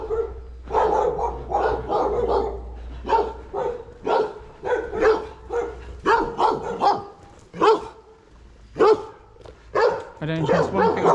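Several dogs barking repeatedly on a walk to Cristo de Copoya in Tuxtla Gutiérrez, Mexico, a string of sharp, fairly close barks in irregular bursts with a low rumble underneath.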